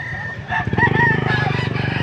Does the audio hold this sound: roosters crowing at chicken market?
yes